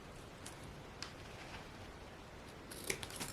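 Scissors trim paper in a planner, giving a few faint, soft snips spread across a quiet room, with a slightly sharper cut near the end.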